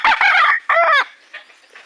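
A mestizo labuyo junglefowl rooster gives a loud, close crow in two strained, harmonic phrases, followed by fainter trailing calls.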